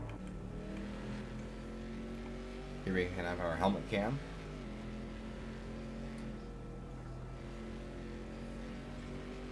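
A race car engine drones steadily from an onboard view in the GTC Legends racing simulator, a continuous low, harmonic hum at constant pitch, while someone speaks briefly over it.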